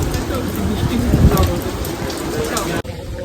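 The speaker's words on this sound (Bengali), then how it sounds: "সেই লেভেলে বৃষ্টি হচ্ছে" Heavy rain pours steadily and close at hand, a continuous loud hiss and patter of drops that cuts off abruptly near the end.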